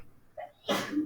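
A single sharp sneeze bursts out after a brief intake of breath, close and fairly loud in an otherwise quiet room.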